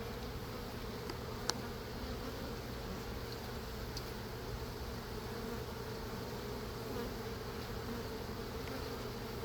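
Honey bees buzz steadily around an open hive during an inspection of brood frames, a dense continuous drone with occasional louder passes of single bees near the microphone.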